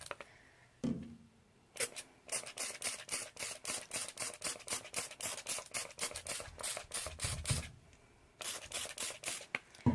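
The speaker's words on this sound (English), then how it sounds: "I'm going to start with just a diluted spray with our stain remover, just to get the garments wet." A hand spray bottle mists diluted stain remover onto garments in a long run of quick, crisp trigger squirts, closely spaced and steady, broken by a couple of short pauses, close and fairly quiet.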